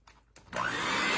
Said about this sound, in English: I had to put them back on my mixer.